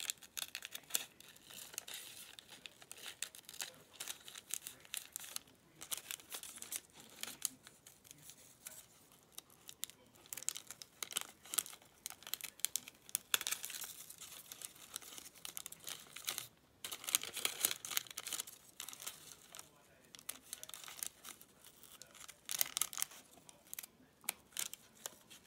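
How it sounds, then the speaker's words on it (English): Scissors snip through fabric while cutting out a collage piece, a close, continuous run of crisp cuts with soft rustling and crinkling of material in between, no speech. "So just cut round it."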